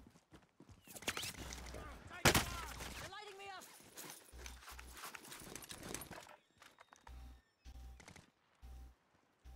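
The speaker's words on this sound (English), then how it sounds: "Who's fucking shooting at you, Miller?" Gunfire in the Warzone game sounds in bursts, with a sharp, loud volley early on and scattered shots after, under excited talk and other game sounds.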